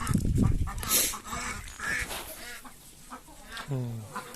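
Muscovy ducks make low, breathy hissing and soft quacking calls close by, mixed with rustling and other nearby noise.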